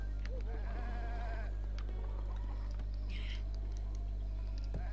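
Goats bleat in a Zelda Breath of the Wild game scene, a few wavering cries over steady game ambience and a constant low hum, moderately loud, with no talking.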